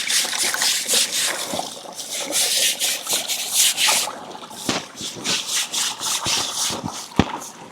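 A brush scrubs wet laundry being washed by hand, in loud, close, rhythmic back-and-forth strokes with a few brief pauses and a sharp knock near the end.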